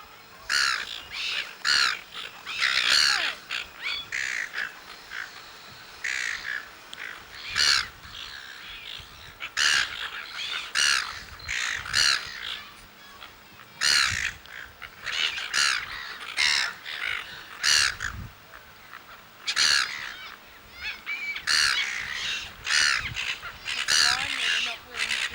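Seagulls calling on the foreshore at Esperance, Western Australia, a busy run of repeated harsh squawks and cries near and far over about 25 seconds, with a person speaking now and then amid the calls.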